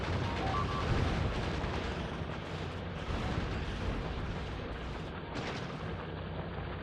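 Grenades going off in Factorio during a Space Age death-world attack wave, a steady dense rumble of overlapping blasts and battle noise with no clear separate bangs, moderately loud throughout.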